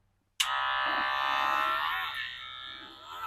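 A weak cordless electric hair clipper switches on suddenly and hums with a thin, buzzing drone that sags and wavers in pitch, fairly close.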